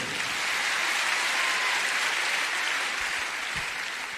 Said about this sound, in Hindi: एक जोरदार ताली इनके लिए।